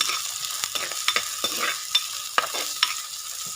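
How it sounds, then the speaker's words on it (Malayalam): Chopped onion, ginger, green chilli and garlic sautéing in a pan for a tuna fish curry, a steady close sizzle broken by sharp scraping stirs. "നമ്മൾ അരിഞ്ഞ് വെച്ച ഉള്ളി, ഇഞ്ചിയും പച്ചമുളകും വെളുത്തുള്ളിയും എല്ലാം അതിലോട്ടിട്ട് ചെറുതായിട്ടൊന്ന് വാട്ടിയെടുക്കണേ."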